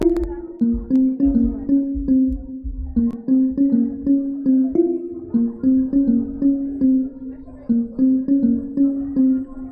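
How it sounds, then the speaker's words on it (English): Plucked kalimba notes ring out in a steady, repeating melodic pattern over a soft low beat, clear and close. "I played a different thing, kalimba"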